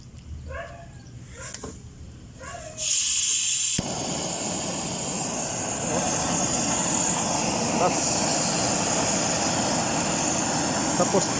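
Butane torch flame from a small refillable torch lighting up and blasting with a loud, steady roaring hiss that continues unbroken after a few brief clicks and rustles, with a voice talking at the start.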